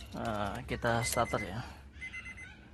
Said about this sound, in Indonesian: itu bunyi seatbelt ya teman-teman